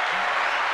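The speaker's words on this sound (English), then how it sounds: "Can we get a round of applause?" A short, steady burst of audience applause, dense clapping heard alone for under a second.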